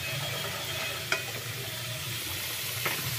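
Potatoes coated in salt and turmeric sizzle while frying in oil, a steady crackling hiss with a couple of sharp clinks from stirring.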